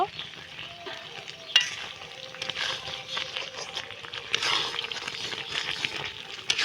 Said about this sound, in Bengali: এটা দিয়ে নেড়ে চেড়ে এখন আমি নামিয়ে নেব